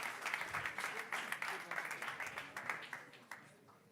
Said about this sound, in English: Another round of applause, please, for Enersur.